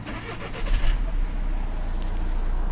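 A 2011 Volkswagen Touran with a cold engine starting up and pulling away for a warm-up drive, a brief start surge settling into a steady mid-pitched engine hum.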